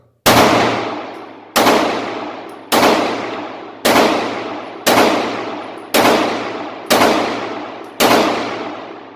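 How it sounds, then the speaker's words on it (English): A handgun loaded from a brand-new Pro Mag magazine fires eight loud, sharp shots at a steady pace of about one per second, each crack ringing out with a short decaying tail, with no talking. "Run about 50 rounds through this gun."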